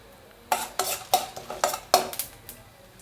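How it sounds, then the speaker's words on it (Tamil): A series of sharp crackling pops and spatters, about seven irregular bursts, of mustard seeds spluttering in hot oil close up while tempering for a beans fry, with no talking. "இப்போ இது நல்லா பொரிஞ்சு வர ஆரம்பிச்சிருது கடுகெல்லாம்."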